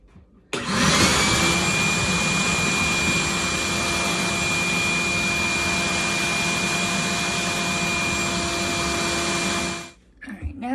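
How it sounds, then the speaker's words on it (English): A shop vac roars steadily at close range, sucking standing water out of a dishwasher, running loud and continuous for about nine seconds before cutting off abruptly. "I'll be back here with the shop vac in a few minutes."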